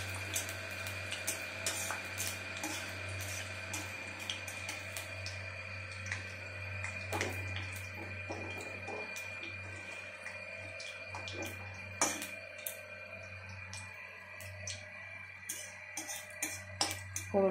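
Dried red chili and a bay leaf crackle and pop in hot oil, a steady scatter of close, sharp ticks over a faint constant low hum, with no talking.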